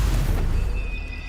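A short whooshing burst of flame from an Incendio fire spell in Hogwarts Legacy, loud at the start and fading quickly with a thin high tone trailing behind.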